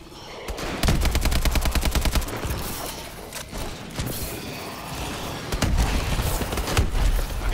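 Gunfire in a zombie video game, rapid bursts of automatic fire with dense repeated shots, sharp booms and thuds, loud and close, pausing briefly before resuming in heavy volleys.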